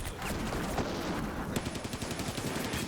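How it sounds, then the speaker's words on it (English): Mortar and gunfire explosions in the war game Combat Mission, a dense run of sharp impacts and blasts at moderate loudness with no talk. "mortar destroyed it"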